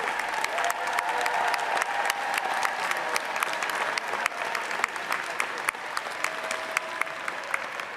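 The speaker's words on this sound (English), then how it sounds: "Please give them a round of applause." Sustained audience applause fills a large hall at the 2023 NEA Representative Assembly, a dense steady wash of many hands clapping with scattered sharper claps, loud and continuous throughout.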